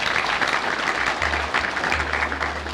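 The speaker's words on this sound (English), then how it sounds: "And this deserves a round of applause." Audience applause at an annual ball, steady dense clapping from a large crowd with a low hum underneath, continuing throughout.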